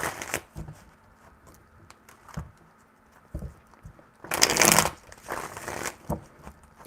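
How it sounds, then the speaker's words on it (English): Tarot cards being shuffled by hand, a few soft riffling bursts with one louder, longer shuffle near the end, close and alone without talk. "3 shuffles."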